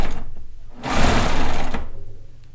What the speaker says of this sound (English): Especially on this seam is the most important